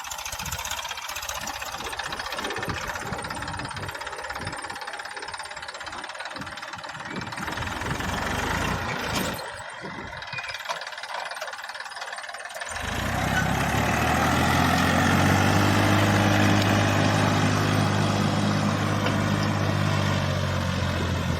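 A Massey Ferguson MF 241 tractor engine running nearby with a plough, a rough steady rumble that grows louder and deeper partway through as it revs up.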